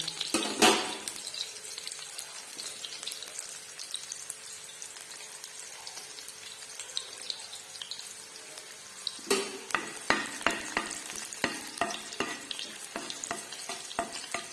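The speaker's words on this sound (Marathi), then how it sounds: "टेचून घेतलेला लसूण घालायचा तो चांगला तांब सोयीपर्यंत तळून घ्यायचा" Crushed garlic fries in hot oil with mustard seeds, a steady close sizzle with a sharp burst at the start and a run of quick stirring scrapes and taps toward the end, no voices.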